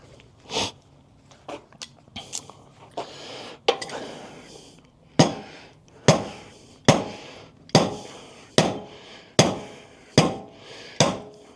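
Sharp metal hammer blows strike a Triumph Scrambler 400X motorcycle rear wheel to loosen it, first a few scattered knocks and light fiddling, then a run of loud, evenly spaced whacks, each ringing briefly before fading.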